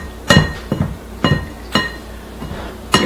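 Coarse crumbs for cranberry walnut bread are mixed in a bowl, and the utensil strikes the bowl in sharp, clinking knocks about every half second, loud and close, with no one speaking.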